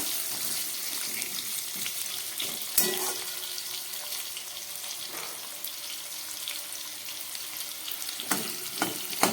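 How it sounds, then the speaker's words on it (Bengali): Cut potatoes fry in a pan over a medium gas flame: a soft, steady sizzle with occasional light clinks and stirring sounds, and nobody speaking. "আলুগুলোকে একটু ভেজে নিই"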